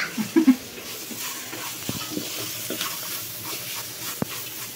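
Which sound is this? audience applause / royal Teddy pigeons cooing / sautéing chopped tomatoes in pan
sautéing chopped tomatoes in pan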